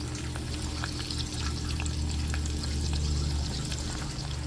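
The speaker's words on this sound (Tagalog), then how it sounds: "habang ako po ay nagpiprito ng tokwa dito po sa labas" Tofu frying in hot oil outdoors gives a steady, close sizzle with scattered pops and crackles that runs unbroken from start to finish, with no voices.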